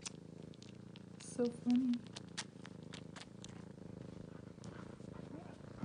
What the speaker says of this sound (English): I'm sucking on his paws and purring.